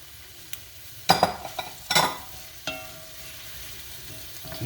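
Vegetables and celery stalks being stirred in a soup pot with a spoon, giving a few scraping, rustling strokes over a soft sizzle, close and moderately loud.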